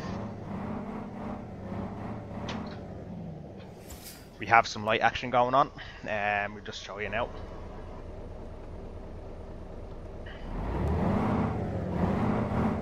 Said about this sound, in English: So we'll start her up so you can hear her a little bit